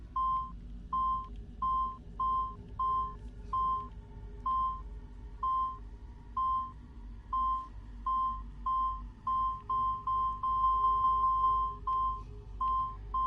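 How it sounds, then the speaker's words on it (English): A treasure detector in the video game Assassin's Creed 2 emits short, steady electronic beeps that repeat at a regular, gradually quickening pace over a low background hum, with no talking. "Up here, it only beeps once."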